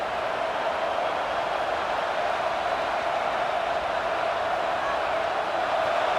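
A stadium crowd at a Washington Huskies vs Arkansas Razorbacks college football game gives off a constant, even roar during a third-down red zone play.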